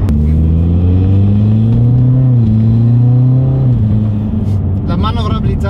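A Mitsubishi Lancer Evo X 400 hp sports car engine hums in a loud, steady drone that shifts pitch as it revs, with someone talking over it throughout.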